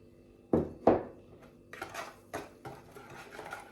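A spoon stirs liquid cake batter in a bowl, giving two sharp knocks against the side followed by a run of softer scraping, clinking strokes, close and fairly quiet.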